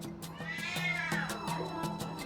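A distressed cat at an airport animal reception centre yowls in a long drawn-out meow close by, with steady rhythmic clicking and mechanical background noise.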